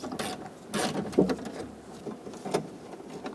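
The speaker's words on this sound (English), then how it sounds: "I'm going to take out this other bolt" Ratcheting clicks from a 10mm socket wrench backing out a bolt on a 2002-2006 Honda CR-V front door, a few short mechanical bursts close up with no talk.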